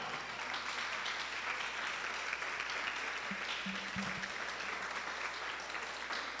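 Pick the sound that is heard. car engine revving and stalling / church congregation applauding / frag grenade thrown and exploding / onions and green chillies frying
church congregation applauding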